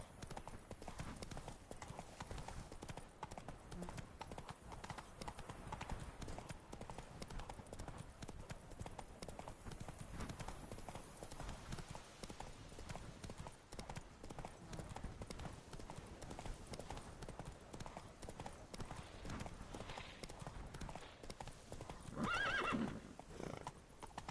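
Horse Roach in The Witcher 3, hooves clip-clopping in a quick steady gallop throughout, with a neigh rising near the end; faint speech sits underneath.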